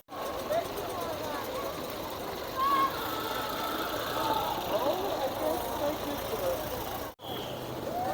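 A vintage car without power steering idles as it reverses at a classic car show in London, a steady mid-pitched engine rumble that continues with brief voices and crowd noise around it.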